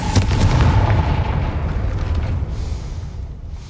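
The Confringo fire spell going off in the Hogwarts Legacy video game while blasting at a gate, a loud booming explosion that starts hard and rolls into a long, fading rumble.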